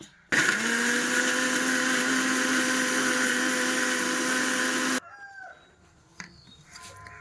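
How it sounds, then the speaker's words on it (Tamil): A mixer grinder grinds spices, whirring loudly and steadily for about five seconds, then stops abruptly, leaving faint background rooster calls and clucks. "போட்டுட்டு ஜாரை மூடி அரைக்க விடணும்"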